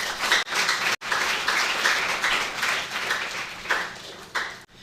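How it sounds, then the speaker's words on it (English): An audience at a university moot court competition applauds, a dense, continuous patter of many hands with a couple of brief breaks, loud and close. "I think we can give them a round of applause"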